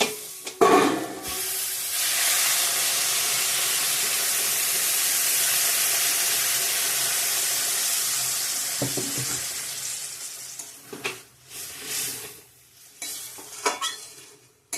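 Potatoes and peas cook in a pan with spices after water is added, giving a steady loud sizzle and bubbling with stirring and utensil scrapes, then trailing into scattered clinks and short bursts of frying near the end.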